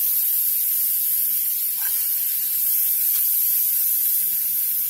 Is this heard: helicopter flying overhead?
no